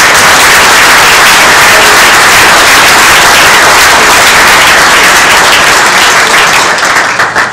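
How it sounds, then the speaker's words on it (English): Loud, dense applause from a crowd at a community services celebration, sustained clapping close and unbroken until it tapers slightly at the end. "so let's give them a round of applause"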